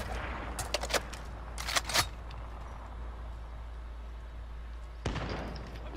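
Sniper gunfire in a video game: a few sharp shots crack out in a quick cluster, then a single later report, all over a steady low background hum.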